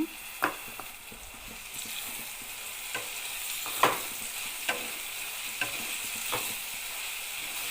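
Tomatoes go into a pan of softened frying onions, with a continuous close sizzle broken by sharp scrapes and taps of a spoon stirring at irregular intervals, no voices.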